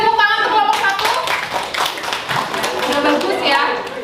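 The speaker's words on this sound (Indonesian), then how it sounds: "beri tepuk tangan untuk kelompok" Classroom applause for a student group, a dense burst of many hands clapping close and loud, sustained across the whole stretch with children's voices mixed in.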